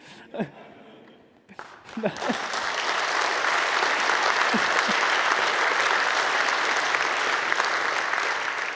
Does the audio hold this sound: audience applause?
yes